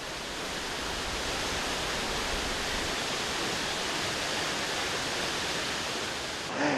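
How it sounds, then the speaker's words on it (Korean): The Veliki waterfall in Croatia roars in a dense, unbroken rush of water, loud and close, with no voices. "가까이에서 보니 한층 더 크게 와닿는 폭포의 웅장함."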